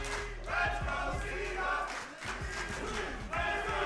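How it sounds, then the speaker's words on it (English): A loud crowd roars and shouts continuously at a Street Fighter 6 tournament in Redding, California, with surges of cheering and sharp thumping hits from the game. "You hear the crowd. They're going off."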